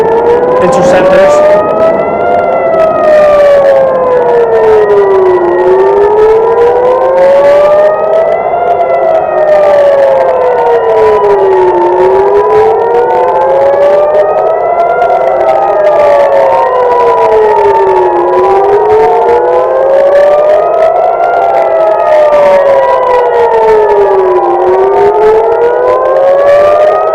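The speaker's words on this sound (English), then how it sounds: "So the sirens" Civil defense air raid sirens wail near Tel Aviv, a loud continuous rising and falling tone in slow cycles with overlapping pitches from more than one siren, sustained for the whole stretch.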